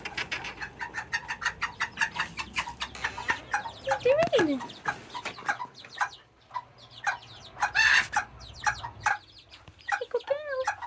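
Chickens clucking and squawking inside a chicken shed in an English garden, with a rooster-like call among them. The clucks come in quick, irregular bursts, close and loud, while a person talks briefly in between.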